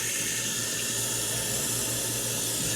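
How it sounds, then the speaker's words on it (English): Cold water runs steadily from a tap over a shotgun hull being rinsed, a continuous close hiss and splash lasting the whole moment with no talk. "Got it unplugged and run it underneath some cold water and it'll hold its shape."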